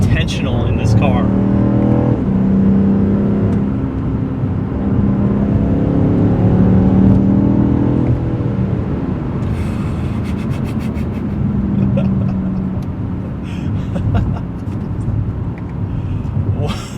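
A BMW M5 CS sedan launches with launch control, its engine roaring loud and near under continuous heavy road and wind noise, the pitch climbing through the gears.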